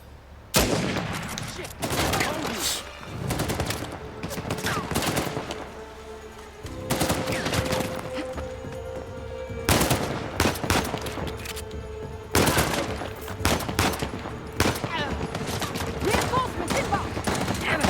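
Weapons fire from shooting an enemy in Uncharted: The Lost Legacy on PS4: loud, close bursts of rapid automatic gunfire come in several volleys separated by short gaps, with brief voice over it.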